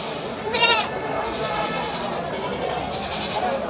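A goat gives one short, quavering bleat close by, set against a steady background of crowd noise at an outdoor village market.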